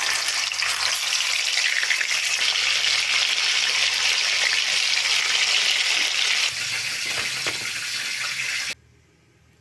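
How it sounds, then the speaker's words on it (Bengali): Chicken pieces frying in hot oil for biryani, with a dense, continuous sizzle and bubbling heard close up and loud, briefly changing in tone before cutting out near the end. "বাকি পিসগুলো একইভাবে ভেজে নেব"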